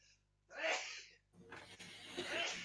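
A single close sneeze bursts out sharply, followed by a softer breathy sound and quiet movement afterward.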